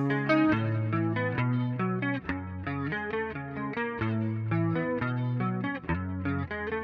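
Clean electric guitar through a Quad Cortex with compressor and dual chorus, with a shimmering tone, plays a steady arpeggiated pattern, smooth and even in level.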